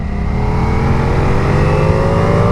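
A Ducati Multistrada V4S motorcycle's V4 engine revs hard and loud, its pitch climbing steadily over a couple of seconds as it pulls into high revs.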